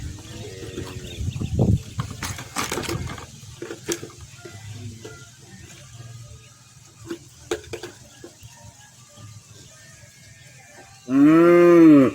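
Cows mooing at intervals, several low drawn-out calls spread through the clip, ending with a loud, close, long moo.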